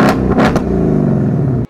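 A Ford Mustang Dark Horse with a 5.0-liter Coyote V8 rumbles loudly up close, with a few sharp throttle blips and then a sustained growling rev before it cuts off abruptly.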